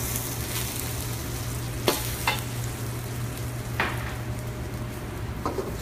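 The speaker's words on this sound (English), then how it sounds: "So I'm just going to stir my butter and flour together." A butter and flour roux is stirred in a wok, giving a soft continuous sizzle with a low steady hum underneath, broken by a few sharp scrapes and clinks of the utensil against the pan.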